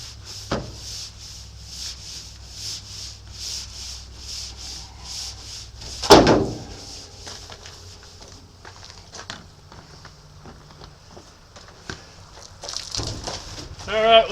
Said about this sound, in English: it ain't gonna be much fun for you guys to sit here and watch me scrub down this whole thing